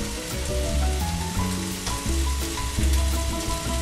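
Lemon zest and peppers frying in hot oil and butter, a steady loud sizzle and crackle that fills the whole moment, with soft tonal rumbles underneath and no talking.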